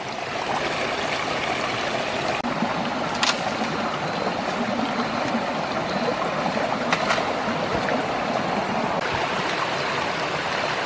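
A small forest stream flows with a steady, continuous broadband wash of water, close and even throughout, with a few faint clicks on top and no talking.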